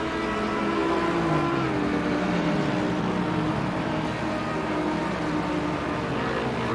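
GT3 race cars in Assetto Corsa Competizione, a McLaren and a Ferrari among them, roaring around the track in a continuous loud engine drone whose pitch rises and falls with gear changes.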